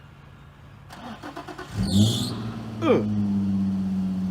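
A 4.6L 2V Mustang with rod knock cold-starts: a brief cranking stutter, then the engine catches with a rising flare and settles into a steady idle. A short grunt of a voice is heard.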